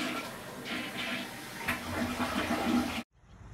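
A toilet flushing, a steady rush of running water that goes on for about three seconds and then stops abruptly, followed by quiet.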